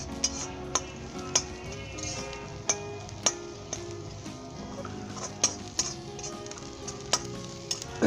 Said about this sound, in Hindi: और इसे मज़ीद 1 से 2 मिनट के लिए मैं फ्राई करूँगा। जैसे मेरा ज़ीरा ब्राउन हो जाएगा